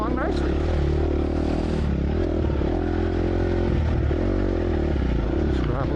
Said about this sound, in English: So far the little 250, a little, sounds like a monster compared to my two-stroke